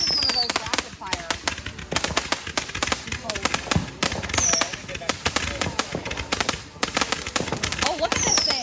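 Rapid-fire consumer fireworks cake going off outdoors, a fast continuous stream of sharp pops and bangs with occasional whistling shots rising, loud and close, with people talking over it.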